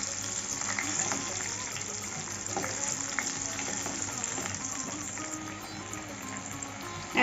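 Ginger, chilli and cumin paste frying with chopped tomato in a pan for khichuri, a steady close sizzle with occasional stirring scrapes, continuous and fairly even.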